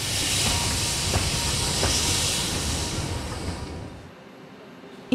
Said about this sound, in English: Steam can exert tremendous power, enough to move steel locomotives and the loads they're hauling.